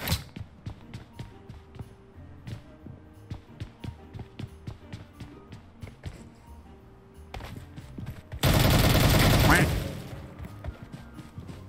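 Gunfire in PUBG Mobile, a run of sharp, fairly regular single shots, then a loud dense burst near the end, with faint voices in the background.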